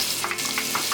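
Butter and cooking oil sizzling in a dutch pot on a stovetop, a brief, loud, steady hiss with small popping spatters throughout.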